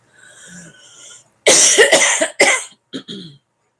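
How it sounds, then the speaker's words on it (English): A few loud, harsh coughs close up, coming in quick bursts after a short stretch of quieter throat noise. "I'm going to cough and I'm going to take a drink"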